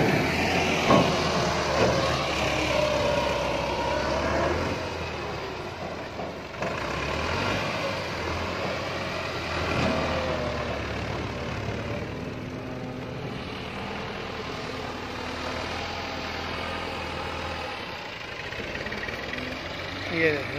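A tractor leveling soil on a village farm field drones steadily for the whole stretch, a constant low engine rumble that holds at a fairly even level.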